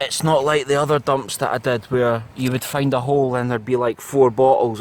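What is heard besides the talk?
None of the usual background noises is heard.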